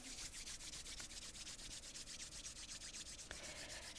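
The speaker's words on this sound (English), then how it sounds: "bring your hands together and rub them" Two hands rub briskly together in a steady back-and-forth rhythm throughout, a close, dry, continuous swishing friction with no talking.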